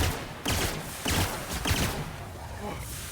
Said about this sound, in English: How dare they shoot me like that?